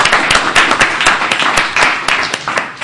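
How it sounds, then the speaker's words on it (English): Audience applause fills the room for a panel at a state senate clean tech industry hearing: dense, steady clapping from many hands, fairly loud and sustained throughout with no voices over it. "Let's give a round of applause for this excellent panel."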